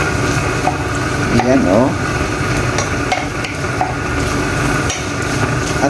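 Tofu and bean sprouts sizzle in a hot pan while a utensil stirs and scrapes them in irregular strokes, close and fairly loud, with a brief spoken remark partway through.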